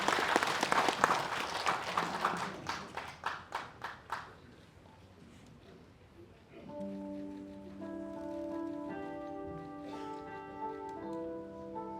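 Applause from an audience welcoming the Appenzeller choir of Pai Chai school at a memorial ceremony for President Syngman Rhee in a memorial hall, loud dense clapping fading out over four seconds, then choir or instrumental music begins.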